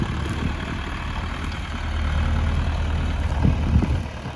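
A tractor engine idles steadily nearby, a low continuous rumble that swells slightly toward the end, with no voices over it.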